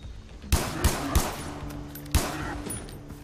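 Gunfire in the video game Far Cry 3 sounds as four sharp shots at uneven intervals over a constant hum of game sound.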